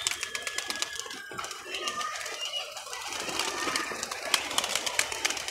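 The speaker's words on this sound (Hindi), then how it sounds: "बड़े बड़े लाजवाब कबूतर आते हैं यार जाल के ऊपर।" Large pigeons perched on a net coo and rustle near a rooftop loft, soft repeated calls mixed with bright clicks and flutters over steady background noise, without talk.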